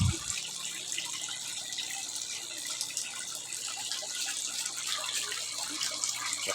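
Water runs steadily during a water change in a backyard tilapia pond on a recirculating system, a soft, constant gushing stream heard close by with no voices over it.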